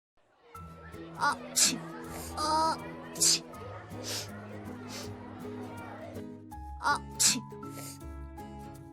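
A person with a heavy cold sneezes several times, in short sharp bursts spread among animated voices and background music.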